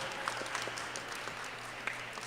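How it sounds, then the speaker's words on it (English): Applause from a school audience at a Grade 4 academic bowl, a steady wash of clapping with no voices, held at an even level throughout. "Round of applause to our principal."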